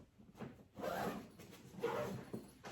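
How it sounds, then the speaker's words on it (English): A duffel bag zipper drawn closed during a barber work area setup, with two long rasping zip strokes at moderate, close range and no talking. "zip it back up"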